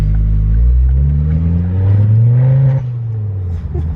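A Ford Focus ST fitted with a Malian exhaust accelerates hard on a road, its engine note rising in pitch and droning loud and close for the full length, then dropping back slightly near the end.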